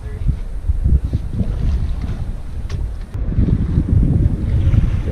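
A sailboat making three to four knots up the Ottawa River, with loud, steady wind buffeting the microphone and low rumbling water noise throughout.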